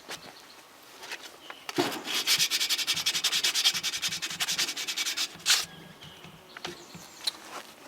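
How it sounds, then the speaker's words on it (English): Sandpaper rubs rapidly back and forth across a wooden tool handle, a close, rhythmic rasping burst lasting a few seconds between quieter scuffs and handling sounds. "I'll just finish it with some sandpaper"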